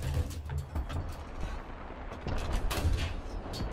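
A Canadian Ram 2 tank in War Thunder fires its cannon amid a rumbling engine and clanking mechanical noise, the shots dull and thudding against a constant low drone.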